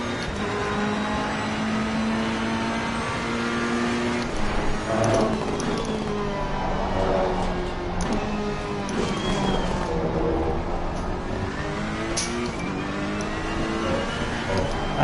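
Race car engine in Assetto Corsa Competizione revving hard in second gear at Misano, a steady loud drone with rising and falling pitch sweeps as the car accelerates and shifts, with other cars' engines around it.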